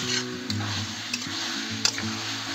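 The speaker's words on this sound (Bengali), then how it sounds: "এটা এখন ভালো করে সুন্দর করে কষাই নেব আলু আর কপি দিয়ে" Fried potatoes and broccoli sautéing in a pan give a steady close sizzle with occasional stirring clicks and light scrapes running throughout.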